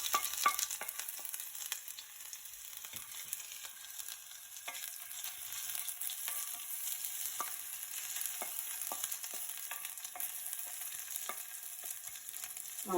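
Ginger and garlic sizzle steadily in a hot pan, a constant bright hiss with small crackles and pops throughout and no voices.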